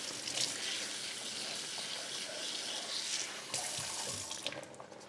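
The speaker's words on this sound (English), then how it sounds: "So I'm going to wash it. This chicken thighs, we're using chicken thighs. I'm using warm water." Warm tap water runs steadily into a sink while raw chicken thighs are washed, a continuous close gushing splash that varies slightly as the meat moves under the stream.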